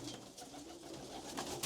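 A red Chameliya breed pigeon coos in a low, soft, rolling murmur, faint and close, with a hissy background and no talking.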